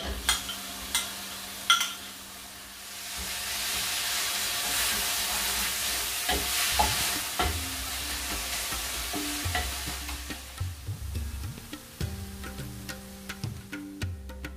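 Chopped tomato tips onto fish frying on a tawa, raising a broad, steady sizzle with scattered stirring scrapes and clicks, close and fairly loud, with no voices.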